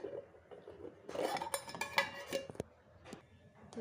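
A metal lid set down over a bowl of fish pieces coated in mustard oil, giving a few light, close clinks and taps against a quiet kitchen background.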